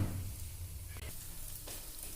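Chitoi pitha batter mixed with jaggery frying in a pan, a steady soft sizzle and crackle throughout, with a couple of brief clinks.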